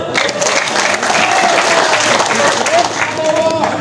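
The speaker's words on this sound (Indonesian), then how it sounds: "Tepuk tangan dulu." Sustained crowd applause at a campaign team inauguration event in Andoolo, loud and dense, with many hands clapping continuously and scattered voices and cheers mixed in throughout.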